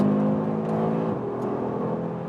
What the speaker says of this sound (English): this 5-cylinder engine delivering me great performance